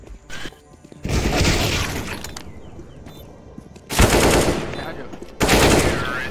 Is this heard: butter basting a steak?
no